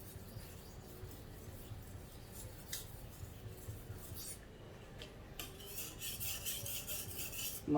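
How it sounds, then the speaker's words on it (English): A knife blade is drawn over a small whetstone, making quiet, close rasping strokes in irregular bursts that build slightly toward the end. "This stone is kind of small, so yeah, I can't. It's a bit hard to sharpen the entire knife."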